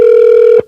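Ringback tone of an outgoing call playing through a phone's speakerphone, one steady loud tone that holds for about half a second and then cuts off.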